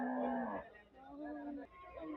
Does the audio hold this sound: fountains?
no